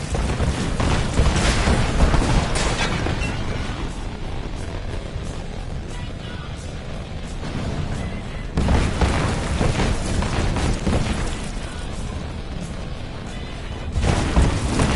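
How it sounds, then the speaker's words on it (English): In the Marvel's Avengers video game, artillery explosions land in a loud barrage of deep booms and rumbling blasts, with two heavy impacts standing out over continuous battle noise. "Their artillery's targeting you. Incoming!"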